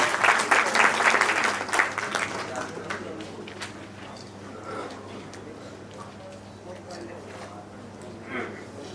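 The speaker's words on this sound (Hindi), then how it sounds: "बहुत जोरदार तालियां सब लोग बजा दें।" A crowd applauds at the Saifi Karwan book launch, loud clapping at first that thins and fades within a few seconds, leaving scattered claps, a low hum and murmuring voices.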